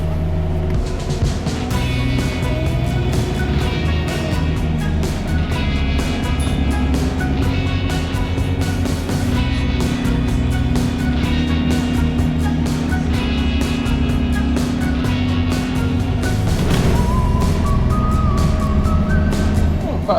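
A city bus engine drones steadily from inside the cabin while riding, a low continuous rumble with shifting tones from start to finish.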